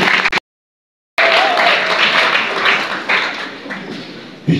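Mourners at a memorial tribute applaud a deceased man, a loud dense round of clapping that follows a short silent gap and then continues steadily before fading slightly.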